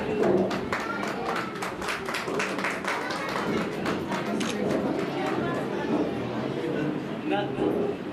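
Audience clapping at a district chess association closing ceremony, a scattered round of applause from a gathered crowd with an announcer's voice speaking over it.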